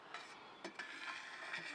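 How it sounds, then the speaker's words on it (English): Goat milk curds being slowly stirred while cheesemaking, heard as faint, soft swishing with a few brief clinks and splashes, with no talking. "When you're making cheese, you are cutting it and then stirring slowly"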